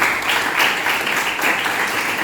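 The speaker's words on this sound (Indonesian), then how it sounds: "Tepuk tangan terlebih dahulu untuk kita semuanya" A group of students in a classroom clap together before an Islamic religious education lesson begins, a short burst of steady, dense applause at an even loudness, close by.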